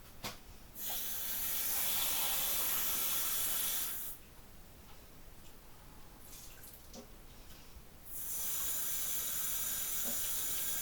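Raw chicken is rinsed under a running kitchen tap, heard as a loud steady hiss of water that cuts out for a few seconds with faint drips and handling sounds, then gushes on again.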